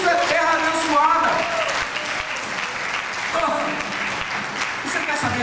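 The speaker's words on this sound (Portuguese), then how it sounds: "Dá uma salva de palmas ao Senhor." A church congregation at a Sunday evening service breaks into steady applause, a dense wash of clapping under a voice that keeps talking over it.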